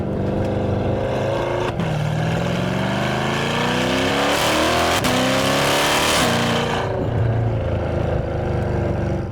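A naturally aspirated Chevrolet Corvette C8 with a big cam, running on E85 and making 550 wheel horsepower, roars loudly and continuously, revs rising and falling as it downshifts through the gears, each shift marked by a brief dip.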